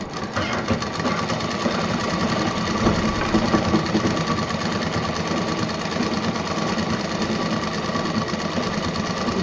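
An electric sewing machine stitches a straight seam on a large fabric shopping bag, its needle chattering in a fast, steady mechanical rhythm up close with a low motor hum beneath, running continuously.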